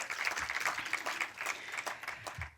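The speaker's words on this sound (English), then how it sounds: "So let's give them a round of applause" Theater audience applauding after staff are thanked at a film screening Q&A, steady dense clapping filling the room for a few seconds, moderately loud and continuous.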